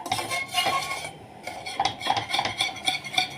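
A whisk beating a mixture in a pot on the stove, the metal scraping and clinking rhythmically against the pan's sides and bottom, close and fairly loud, pausing briefly before resuming.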